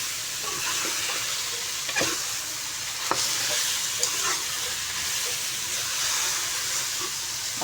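Tinda (Indian round gourd) pieces frying in spice masala for a tinda sabzi, a steady close sizzle and hiss with occasional spoon scrapes and clinks of stirring, no voices.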